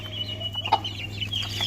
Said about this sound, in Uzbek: Mana polvoni xo'roz.